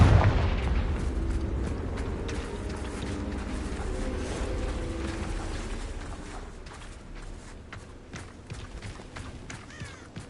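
A Confringo fire spell explodes in Hogwarts Legacy, opening with a loud booming blast whose rumbling roar slowly fades, scattered with crackling pops.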